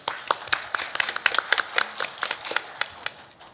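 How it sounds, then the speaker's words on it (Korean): Applause from a seminar audience welcoming the first presenter, a professor, at a Korea–Japan women journalists' forum; many hands clap in dense, uneven bursts that stay steady for a few seconds with no talk over them. "그럼 첫 번째 발제자인 이은영 교수님부터 큰 박수로 맞이해 보겠습니다."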